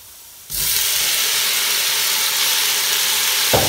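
Tomato hits hot olive oil in a pan and breaks into a sudden loud, steady sizzle that holds unbroken for about three seconds.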